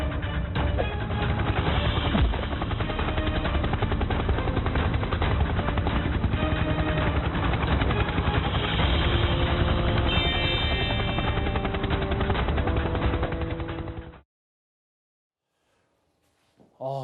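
A rescue helicopter deployed on a mountainside in Yeongam, South Jeolla, to find a missing elderly person with dementia gives a loud, steady, close roar for about fourteen seconds, then cuts to near silence before a voice briefly begins.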